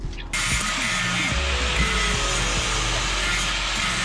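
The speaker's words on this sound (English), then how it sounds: "So I'm going to go ahead and grind that down a little bit." An angle grinder grinds down a steel tube during a trail-side repair on a rock crawler, a close, harsh, continuous abrasive rasp that wavers as the tool is worked back and forth across the metal.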